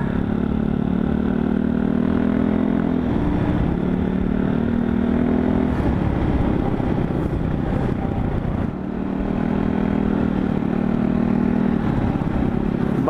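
A motorcycle ridden at night on the road toward Bulacan, its engine droning steadily and loudly with shifts in pitch as it speeds up and eases off, plus wind and road rumble.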